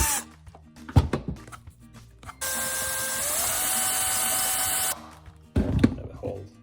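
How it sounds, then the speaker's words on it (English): A power drill bores a hole through a plastic switch box, a steady high whine lasting a few seconds between quieter handling knocks and clatter. "Let's drill the hole for the switch actually"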